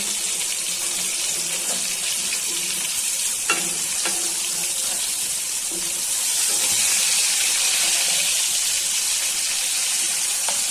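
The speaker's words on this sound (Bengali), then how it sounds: "মাছগুলা ভাজা হয়ে যাচ্ছে, উল্টে পাল্টে ভালো করে ভেজে নিচ্ছি।" Rohu fish pieces frying in hot oil, a loud continuous close sizzle and hiss with occasional sharp clacks as the pieces are turned over, no voices.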